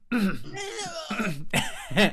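A person clears their throat several times in quick, rough bursts, close and fairly loud, with no other talk.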